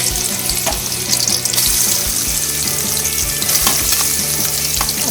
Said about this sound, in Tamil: வெங்காயத்தை முதல்ல சேர்த்துடலாம்.